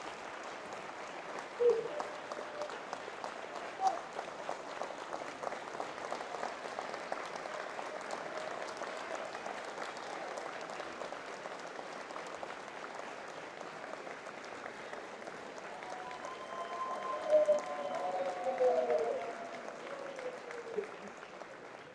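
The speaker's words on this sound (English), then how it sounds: "Let's give our officers, all our officers that are here, all our officers that are working now in the city, a round of applause" Audience at a city address applauding police officers, a steady, moderately distant round of clapping that holds for about twenty seconds with a brief swell near the end.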